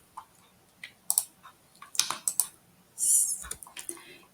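Key presses on a computer keyboard while working in a Canva whiteboard drawing tool, a quick run of sharp, close clicks in small irregular bursts with short pauses between them and no talking.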